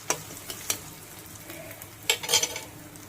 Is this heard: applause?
no